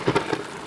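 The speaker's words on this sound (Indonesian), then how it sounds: "hujan itu sangat deras, nggak kira-kira hujannya" Heavy rain pours down as a brief, dense, steady hiss, loud and close throughout.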